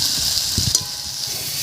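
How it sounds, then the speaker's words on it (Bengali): Potato and brinjal pieces frying in a little oil in a pan, a constant close sizzle with a few soft stirring scrapes in the middle. "এই অবস্থায় আলু আর বেগুনটাকে একটু ভাজা ভাজা মতো করে নেব।"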